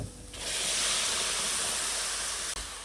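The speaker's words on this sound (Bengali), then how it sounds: "এখন ফ্রাই প্যানটা যে গরম হয়েছে এই গরম হওয়া অবস্থায় আপনার পেঁয়াজ এবং রসুন একটু হিট লাগবে" Onion and garlic hitting a hot frying pan with a splash of water in oil-free cooking, a steady loud hissing sizzle that swells after a quiet start and holds throughout.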